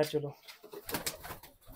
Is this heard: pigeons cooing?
yes